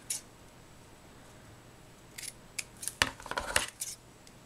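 Scissors snip the ribbon bow ends on a sunflower thank-you card: a lone cut near the start, then a quick run of close, crisp snips in the second half with no talk.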